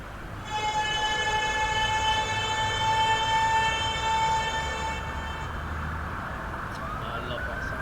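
A Siemens Class 374 Eurostar electric train in Train Simulator 2022 hums and whines with a steady high-pitched motor tone that fades out, leaving a low rumble; faint talking underneath.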